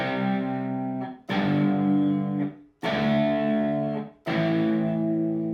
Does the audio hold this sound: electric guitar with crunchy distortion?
yes